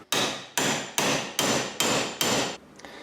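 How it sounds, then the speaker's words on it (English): Six sharp, ringing metal hammer blows strike the cut-off remainder of a bolt on a Toyota MR2 engine mount, evenly spaced about half a second apart and each decaying quickly, followed by faint clatter. "So I've put a nice gash in it, time to give it a pounding."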